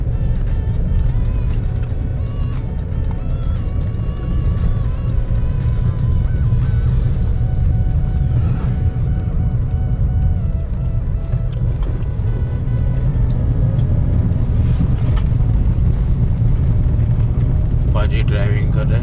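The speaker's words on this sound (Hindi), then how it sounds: "तो अभी यहाँ पे आप देख रहे होंगे बहुत सारा ट्रैफिक है" Early-morning road traffic in Goa, heard from inside a moving XUV300 on a road trip: a steady loud engine and road rumble with passing vehicles and occasional horns, while someone talks over it throughout.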